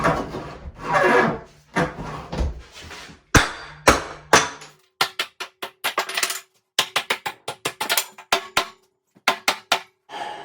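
A bathroom vanity in a 1970s bathroom being forced loose during demolition, loud wooden scraping and grinding followed by a run of sharp knocks and clunks in quick irregular bursts, close by.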